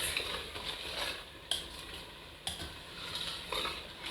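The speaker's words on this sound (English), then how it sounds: "So I'm going to stir it." Brown beans porridge stirred in a pot: repeated close scraping strokes of a spoon against the pot with a soft sizzling, bubbling bed underneath and a couple of sharper knocks.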